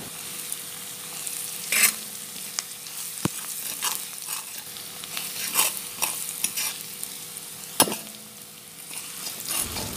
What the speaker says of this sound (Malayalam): ഇനി ഉള്ളി ചേർക്കാം.